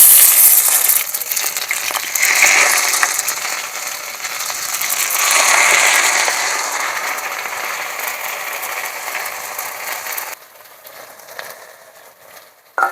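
Ingredients hit hot mustard oil in a wok, making a loud, dense, close sizzle that fades gradually and drops to a quiet hiss near the end.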